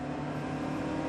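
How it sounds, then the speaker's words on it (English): A turbocharged car engine with noticeable period turbo lag, driven in The Grand Tour Game, holds a steady, strained drone for about a second at constant pitch before the boost builds. "There's a fair bit of period turbo lag,"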